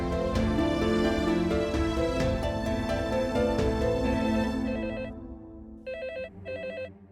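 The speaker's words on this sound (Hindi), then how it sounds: "एक काम करता हूँ, लैंडलाइन पे फोन करता हूँ," A telephone rings repeatedly on a landline in a TV drama scene, the electronic ring tones coming in short bursts over background music, loud and close with no talking.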